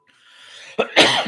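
A single close cough bursts out after a quiet lead-in, sharp and breathy, followed by a brief rough exhale.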